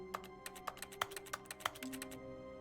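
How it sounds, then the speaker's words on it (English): Rapid clicking in The Stanley Parable: Ultra Deluxe, sharp irregular taps like keys or a mouse button, about a dozen in quick succession over a faint tonal game hum, close and alone. "that's the sound of me clicking the mouse"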